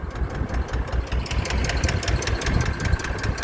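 Ursus C330M tractor engine idling outdoors, a steady low rumbling chug with faint knocking pulses that runs continuously and loud throughout, with wind noise and no talk.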